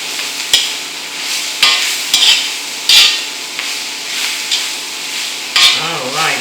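Pork browning in a hot wok for fried rice, a loud continuous sizzle broken by regular scraping stirs of the spatula every second or so.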